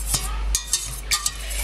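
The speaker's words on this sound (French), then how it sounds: "dans une casserole, nous allons battre un tout petit peu la crème fraîche" Crème fraîche being whisked in a saucepan, a handful of quick scraping, stirring strokes in an irregular rhythm, close and fairly faint, with no talk.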